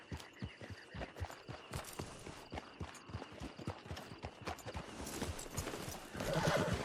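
In the video game Red Dead Online, rhythmic clip-clop of horse hooves trotting steadily, followed by a horse's whinny near the end, with faint background hum.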